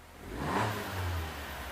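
A car engine revs once during a scan tool diagnosis, rising to a peak and then easing back to a steady hum. The sound is fairly quiet and close, with no talking.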